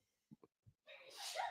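A single sharp sneeze bursts out near the end, preceded by a few faint breaths or sniffs in an otherwise quiet room.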